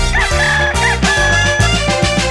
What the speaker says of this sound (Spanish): es el gallo que aparece y hace